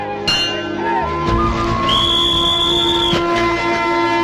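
A shrill train whistle blows for about a second amid the rumble of a departing train at a station, with voices nearby.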